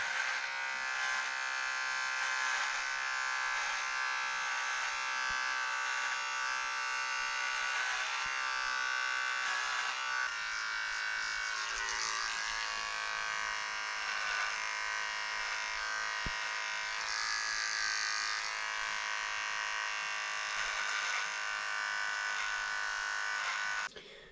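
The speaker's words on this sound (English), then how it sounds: "Small little micro trimmer right there between the eyebrows." An electric micro trimmer buzzes continuously while trimming facial hair between the eyebrows, a close, steady high-pitched whine with slight pitch shifts and no speech.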